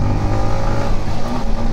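Yamaha MT-15 motorcycle pulling hard at full throttle while carrying three riders, a loud, sustained engine roar with wind rush, heard close and steady without speech.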